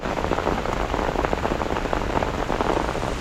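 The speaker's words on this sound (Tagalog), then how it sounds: "Lumalakas po ang ulan." Heavy rain pours steadily by a river, a dense, loud, unbroken hiss of drops hitting water and surfaces with no voices.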